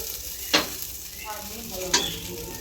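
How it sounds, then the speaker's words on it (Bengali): Chicken chow mein reheats in a pan with a low steady sizzle, and two sharp scrapes of a utensil stirring the noodles stand out close up. "ওর জন্য চাউমিনটা একটু গরম করছি এক চিকেন চাউমিন"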